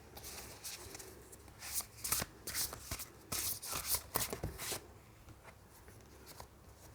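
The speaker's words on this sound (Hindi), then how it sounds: "मैं दोनों कार्ड ले लेती हूँ।" Tarot cards are shuffled and drawn close up, with soft, quick riffling and sliding bursts in uneven clusters, fairly quiet, and no talking.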